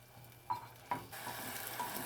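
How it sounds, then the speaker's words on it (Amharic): Onion, tomato and garlic sizzle softly in butter in a thick pot for Ethiopian shiro, with a couple of sharp stirring clinks of a utensil against the pot over a steady low frying hiss. "አሁን ይችን ትንሽ ጠበስ አረጋታለሁ።"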